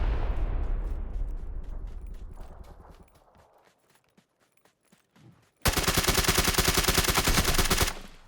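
Gunfire in the battle-royale game PUBG on Xbox One X: a burst of shots decays into scattered faint reports, then a loud rapid automatic volley rattles for about two seconds before cutting off.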